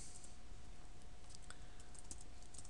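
Commands are typed on a computer keyboard, giving a quiet patter of keystrokes over a steady hum and background hiss, with no voice.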